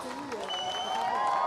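A crowd applauds and cheers after a freeride ski run at the Freeride World Tour in Val Thorens. The applause is a steady, dense wash throughout, with a commentator's voice carrying over it.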